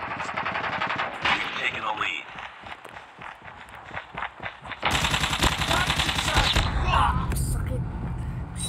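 Gunfire in the video game Call Off Duty: rapid machine-gun bursts and single shots mixed with running footsteps, then a sustained loud volley, with a voice talking over the action.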